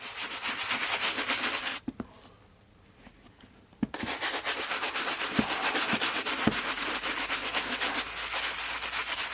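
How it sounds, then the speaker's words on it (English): Stiff brush scrubbing a black cement shoe during restoration, a steady near rasping rub that stops briefly for about two seconds, then resumes continuously with a few sharp knocks. "So once you're done wiping down the shoes and scrubbing them"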